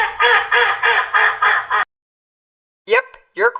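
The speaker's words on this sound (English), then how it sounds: "Yep, you're quacking like a duck." A duck quacks loudly and close in a quick run of five harsh, nasal quacks, then falls silent before two more short quacks.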